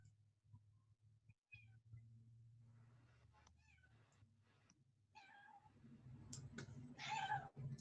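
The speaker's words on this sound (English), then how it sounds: "Sorry, my cat woke up." A house cat meows several times, faint at first and then louder and closer, with soft drawn-out calls near the end over a low background hum.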